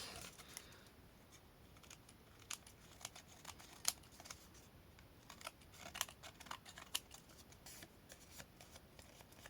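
Scissors snip through paper while a small tic-tac style ribbon box is crafted, giving crisp, quiet, irregular cuts and light paper rustles close by, with no speech.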